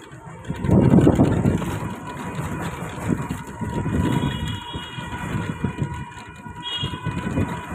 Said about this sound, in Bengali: ওই দেখুন মেট্রো যাচ্ছে, মেট্রো।